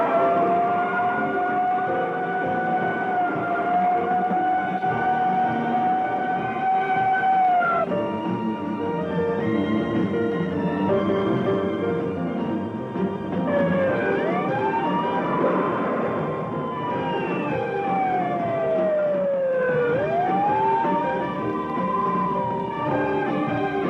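An ambulance siren wails continuously in a 1970s film, long steady tones giving way to sweeping rising and falling cycles, loud and close over low rumbling engine noise.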